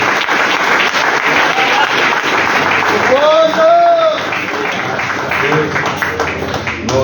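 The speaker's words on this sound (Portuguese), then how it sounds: "dê a sua melhor salva de palmas para Jesus." A standing congregation at a Pentecostal evangelical church claps loudly and continuously, with cheering and raised voices mixed into the dense applause throughout.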